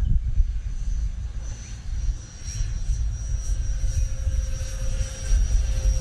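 An E-flite A-10 64mm electric ducted-fan RC jet roars steadily overhead in a low knife-edge pass through turbulent air, with a continuous whooshing whine and wind rumble throughout.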